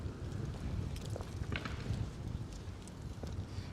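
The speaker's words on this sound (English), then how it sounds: "you may notice it's a little windy out here." Wind gusting outdoors in Prospect Park, New York City, a steady low rumbling buffet across the whole stretch, loud and close as if hitting a microphone, with no voices.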